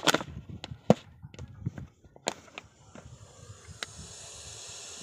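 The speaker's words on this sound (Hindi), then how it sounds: "इसका नाम है रसल वाइपर, और इसकी आवाज़ सुन सकते हैं।" A Russell's viper hisses in steady, breathy bursts likened to a pressure cooker whistle, close and fairly loud, with sharp handling clicks and knocks scattered through.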